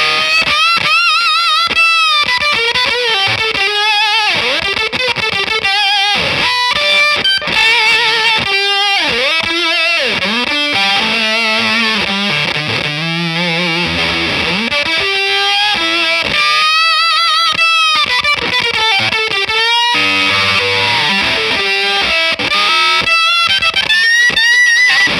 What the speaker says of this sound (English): we've got the germanium Octavia engaged, and we've got the fuzz at about 1 o'clock, the sputter at maximum